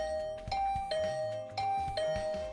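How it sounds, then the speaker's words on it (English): A game doorbell chime from Hundred Line Last Defense Academy rings clearly several times in a steady repeating pattern over soft background music. "I'd been relaxing in my room after breakfast when the doorbell rang."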